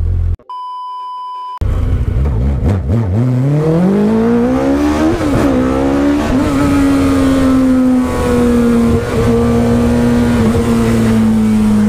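After a short electronic beep, a Suzuki Hayabusa sport motorcycle engine roars up in pitch and holds a loud, sustained 11,000 RPM whine close by.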